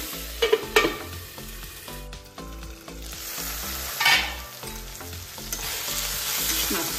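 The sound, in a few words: taro stems frying on low flame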